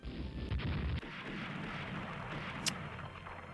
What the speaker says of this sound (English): Hit it with 2 torpedoes.